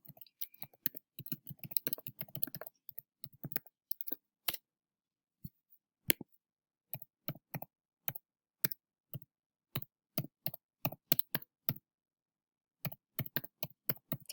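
A password is typed on a computer keyboard: close, sharp key clicks, first in a quick dense flurry and then in sparser, uneven taps separated by short pauses.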